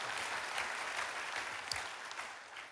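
Church congregation at a Sunday service in Indonesia claps together, a faint, dense patter of applause that holds steady throughout with a few sharper claps.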